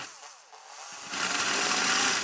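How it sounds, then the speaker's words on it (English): A drill bores a large hole in a metal tube amplifier chassis: a quiet whine at first, then a loud, harsh grinding buzz that rises and holds steady as the bit bites into the metal. "when you're drilling bigger holes like this"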